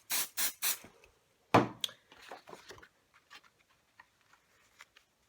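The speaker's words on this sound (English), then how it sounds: "I'm going to use a 505 adhesive spray just to attach mine" Three quick hissing bursts of 505 adhesive spray, then a longer spray followed by faint rustling and small clicks.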